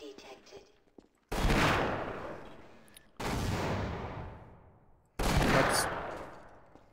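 Three loud, sharp bursts of gunfire from Half-Life: Source, each hitting abruptly and then decaying in a long, rumbling tail, evenly spaced about two seconds apart with quiet in between.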